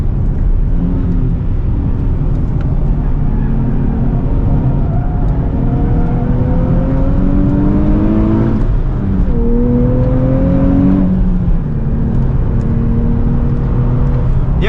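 A 2027 Nissan Z NISMO with a 6-speed manual and stock exhaust drives hard, its engine note climbing in rising revving sweeps, dipping briefly at shifts, then pulling up again, loud and close from inside the cabin.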